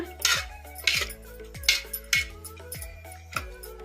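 A spoon stirs tomatoes, turmeric, oil and mint for rasam inside a metal pressure-cooker pot, giving a steady series of sharp metallic clinks and scrapes about twice a second, close and fairly loud, with no voices.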